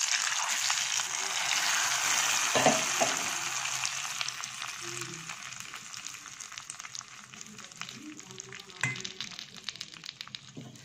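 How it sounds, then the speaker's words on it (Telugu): Hot tempering of spiced oil is poured into Telangana-style masala dal, giving a loud, close, steady crackling sizzle that slowly fades. A couple of sharp clinks from a utensil come through, and no one speaks. "ఇప్పుడు తాలింపుని మనం పప్పులో వేసుకుందాం"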